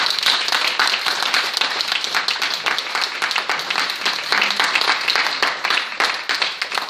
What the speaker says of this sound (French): je vous propose qu'on applaudisse Christian.